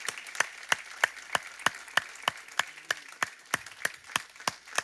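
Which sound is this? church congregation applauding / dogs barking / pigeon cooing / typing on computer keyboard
church congregation applauding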